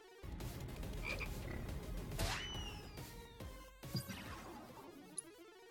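Frogs in the Final Fantasy VII Rebirth minigame croak loudly over busy game sound, with crashes, whooshes and a thump mixed through the croaks.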